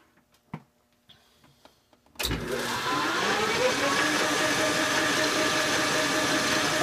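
A metal lathe spins up and runs at 780 RPM with no variable-frequency drive, giving a continuous loud motor hum and whine that holds steady after a few faint clicks and knocks.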